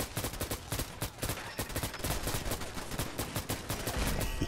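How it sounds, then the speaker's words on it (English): A suppressed VHS-2 bullpup rifle in Fallout 4 fires rapid sustained bursts, a loud dense rattle of shots continuing almost without pause. "the gun's a little loud with the suppressor on"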